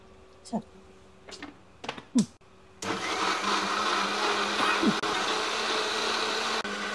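A blender grinds pani puri paste for Bangarpet-style paani, starting after a few brief sounds and then running as a loud, steady whir for the rest of the clip.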